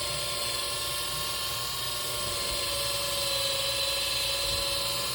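Small electric sander working 150-grit sandpaper over a cured resin surface, giving a steady whining motor hum with a gritty scratching hiss, continuous and close for the whole stretch with no talking.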